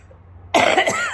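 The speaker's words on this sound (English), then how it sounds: "Sorry, still got that cough." A single sharp, close cough from one person bursts out after near silence and trails off with a brief rasp.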